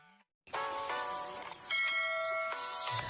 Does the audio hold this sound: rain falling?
no